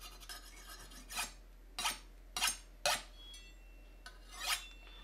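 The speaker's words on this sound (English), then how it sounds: "How I sharpen my knives. I'll get the angle right and I'll sharpen." A kitchen knife is drawn across the unglazed ceramic bottom of a coffee mug in about six distinct rasping strokes, close and fairly quiet, with no speech.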